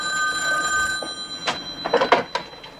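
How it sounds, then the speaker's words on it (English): A landline telephone bell rings in a sitcom apartment scene, a bright trilling ring with a couple of brief bursts, fairly close, alone without talk. "Jenny, phone call"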